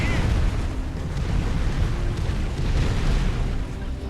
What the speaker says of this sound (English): Thor explosion radius is completely stupid.